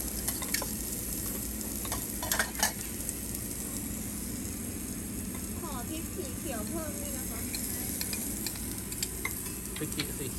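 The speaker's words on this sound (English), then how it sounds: "We also like to put in the garlic and the green peppers and roast them." Garlic cloves and green peppers roast on a Korean BBQ grill in a busy restaurant, a constant hissing sizzle that fills the space, with a few sharp ticks and clatters near the start and murmuring diners in the background.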